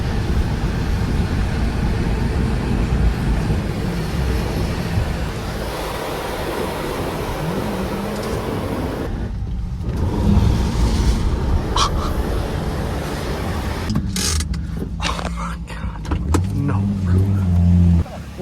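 A damaged drift car's engine runs roughly, with plastic pieces coming off the car. A continuous, loud rumbling drone carries a few sharp rattles and clicks toward the end.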